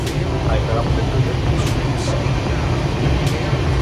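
A passenger train runs from Chennai toward Nizamuddin, heard from inside the carriage as a loud, continuous low rumble with a steady rattling hiss and faint higher clicks.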